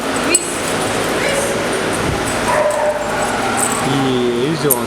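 Puppies at a dog daycare yip and bark in short bursts with some whimpering, mixed into a busy background while a person talks to them throughout.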